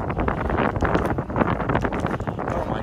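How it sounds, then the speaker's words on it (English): Strong gusty wind outdoors on the shore of a frozen lake on a cold day, buffeting the microphone with loud, continuous rumbling roar and no speech. "but it's so windy."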